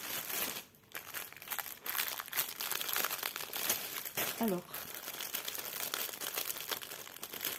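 Crinkling and crumpling of plastic packaging as a cross-stitch kit parcel is opened, continuous rustling close by, with a brief spoken word partway through.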